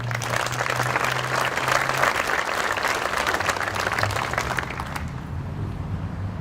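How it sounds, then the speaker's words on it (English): A crowd at a police facility grand opening and dedication ceremony applauds steadily and loudly, a dense wash of clapping that tapers off near the end. "But we appreciate the applause."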